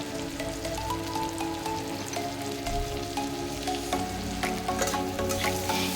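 Mixed vegetables with green chillies, salt and turmeric frying in a pan for a mourala fish jhal chorchori, a thick continuous sizzle with crackling and stirring noises close up, no one speaking.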